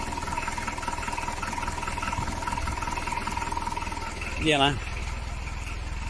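A rusty Citroen BX engine idles steadily with an even mechanical hum throughout, close by, while someone talks over it and a brief whistle-like rising sound cuts in near the end.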